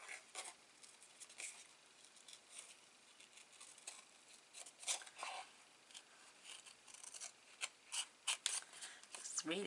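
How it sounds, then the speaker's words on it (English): Small scissors snip around a stamped paper image for a gift tag, a quiet, close run of crisp cuts and paper rustles that grows busier toward the end. "Let me fussy cut him out first."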